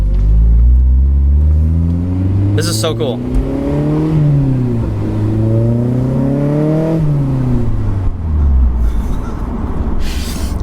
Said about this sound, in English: Yeah, now you can hear the exhaust.